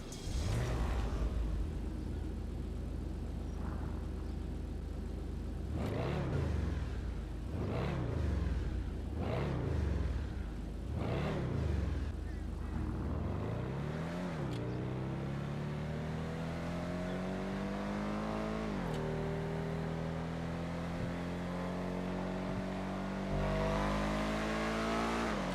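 A car engine in GTA Online revs hard in a string of rising and falling bursts, then climbs steadily through gears with a shift partway, loud and close with no talking.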